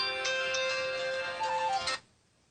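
A phone ringtone for an incoming call plays loud and close as a repeating melodic electronic tune for about two seconds, then cuts off abruptly into near silence.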